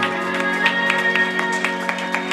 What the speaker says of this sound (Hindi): जोरदार तालियां जाए खुदावंद के जलाल के लिए